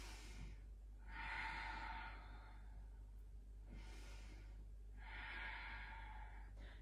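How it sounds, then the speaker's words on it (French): Slow Ujjayi yoga breathing during a gentle morning flow: three long, soft, airy breaths, close and even, with a steady low hum underneath and no speech. "On pense à la respiration Ujjayi."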